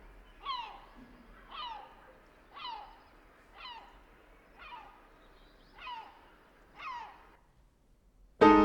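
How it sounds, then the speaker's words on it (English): Herring gull giving a rhythmic horn call: seven evenly spaced, falling nasal calls about one per second, clear and moderately near against a quiet background, ending with an abrupt burst. "the herring gull with a rhythmic horn call."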